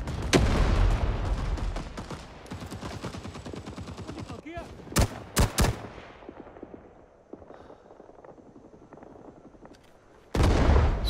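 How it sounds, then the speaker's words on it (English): Several grenade explosions go off in the Vietnam War shooter Rising Storm 2: a heavy blast at the start, a cluster of sharp bangs midway and another loud burst at the end, with chatter and battlefield noise between them. "Sound like grenades."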